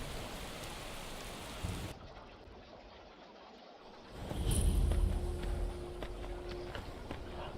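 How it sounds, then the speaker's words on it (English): Steady rain falls in the video game Skyrim, a continuous hiss of pattering drops that dips briefly then swells again with a heavier low rumble midway, heard alone without talk. "Why is it always raining?"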